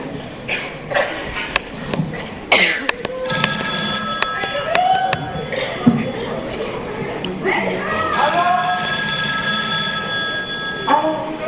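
Telephone ringing in repeated electronic bursts, heard under and between people talking, with crowd noise and other activity in the background.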